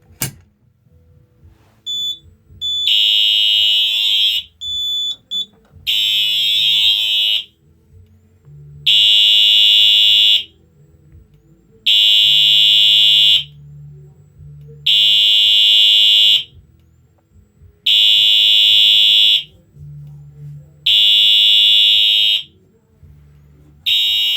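A loud Simplex 4005 fire alarm system sounds in repeated pulses after a pull station is activated, each burst lasting about a second and a half with short gaps, steady and close throughout.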